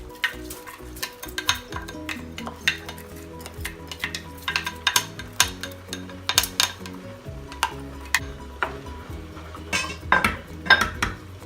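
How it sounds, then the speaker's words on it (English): Washed basmati rice goes into a pot of boiling coconut milk for a Jamaican dish. Steady clattering of a utensil against the pot and scraping stirring knocks repeat throughout, close and fairly loud, with no talking. "I have washed our basmati rice already, and we're just going to add this in here."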